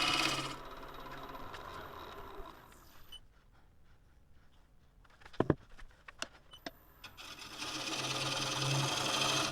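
Gouge cutting deeper into a casuarina wooden bowl spinning on a lathe, a steady scraping hum that fades into a quieter stretch with a few sharp knocks, then builds back up.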